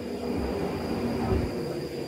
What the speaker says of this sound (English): This is a Northern Line train terminating at Moorgate.